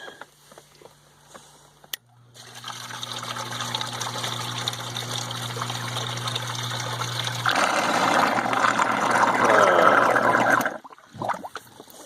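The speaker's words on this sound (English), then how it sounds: "that's the sump pump" A sump pump runs in a cave beneath a house, a steady mechanical hum with rushing water that grows louder and splashier partway through before cutting off abruptly, with no talk.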